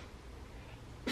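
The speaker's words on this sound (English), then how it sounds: "Are you sneezing?" A single short, sharp sneeze bursts out at the very end after a stretch of quiet room noise.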